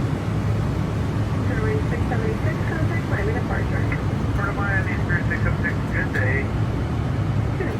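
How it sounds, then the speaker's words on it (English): An airliner's engines roar in a steady loud rumble on the runway during takeoff, with radio voices talking over the noise. "runway 10 right, clear for takeoff"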